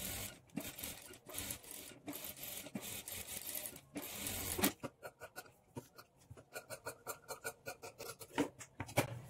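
A sewing machine top-stitches the lining of a high-neck blouse, first a fairly continuous run, then choppy rapid pulses of stitching close to the microphone.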